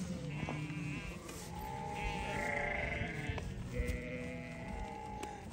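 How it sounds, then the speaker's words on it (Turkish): A large lamb bleats several times in drawn-out, wavering cries, fairly close, with other sheep bleating and faint background noise between calls. "Böyle iri bir kuzu ya."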